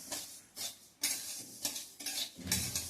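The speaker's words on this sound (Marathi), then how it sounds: "हे हळू खूप भाजायचे नाही म्हणजे अगदी काळपट नाही होऊन द्यायचे" Garden cress (aliv) seeds are stirred while roasting in a pan, giving a close run of scraping, rustling sweeps in uneven bursts about every half second, with no talking.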